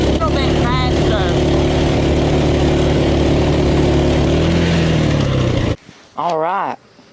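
A cheap $500 Walmart pit bike runs flat out along an old gravel driveway with a loud, buzzing small engine and gravel noise, then cuts off abruptly before a short burst of speech.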